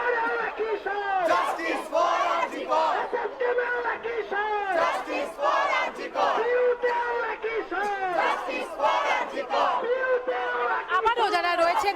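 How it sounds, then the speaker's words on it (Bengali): Crowd of protesters at an RG Kar protest rally in College Square chanting slogans in unison, loud rhythmic massed voices rising and falling in repeated call-like phrases, close and continuous. "একটু স্লোগানটা শোনানোর চেষ্টা করব এই মুহূর্তে আমাদের দর্শকদের জন্য"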